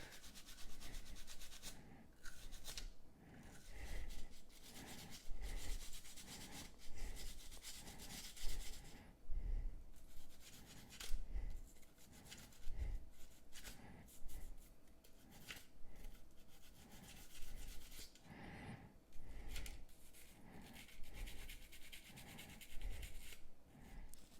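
A brush dry-scrubs the parts of a Taurus G3 pistol during cleaning, making close, rhythmic rasping strokes in repeated bursts with short pauses between them, steady at moderate loudness throughout.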